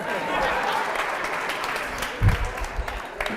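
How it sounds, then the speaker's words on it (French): A school audience at a high school trophy event claps for a student, a loud dense round of applause with a thump near the end and voices under the clapping. "Applaudissements pour lui."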